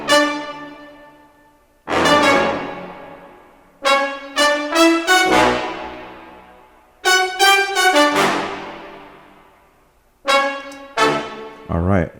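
Hip hop brass arrangement with layers in two octaves panned wide over low brass, punchy chord stabs and short repeated hits separated by pauses, each decaying quickly, moderately loud with no talking.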